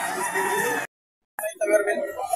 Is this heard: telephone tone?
no